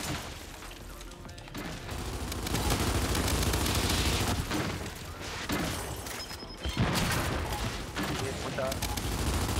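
Sustained, loud gunfire in the Gears 5 video game, dense overlapping shots and blasts with crashing impacts that run almost continuously, while players talk faintly underneath.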